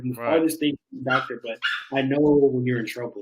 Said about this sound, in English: You have to excuse the noise. As my little pup is just going.